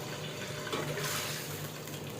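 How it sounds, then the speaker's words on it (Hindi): Water poured into a pot of washed rice while cooking, a steady splashing fill heard close and alone for a couple of seconds. "तो पानी जनाब डलेगा इसमें"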